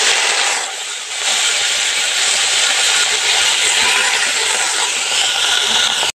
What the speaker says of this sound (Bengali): কড়াইতে তেল দিয়ে দিয়েছি। এখন কলার মোচাটা দিয়ে দেব।